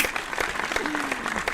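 Scattered audience applause in a small podcast studio right after a birthday song, steady clapping with a few voices murmuring over it.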